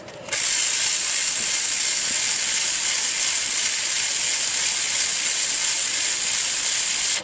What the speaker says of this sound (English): I'm not going to talk this time while my ratchet's running like last week.